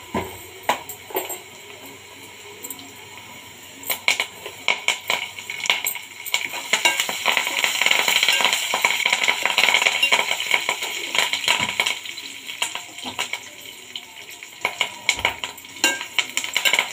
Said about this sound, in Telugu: వెల్లుల్లి గోల్డెన్ కలర్ వచ్చే వరకు వేపుకుందాం అండి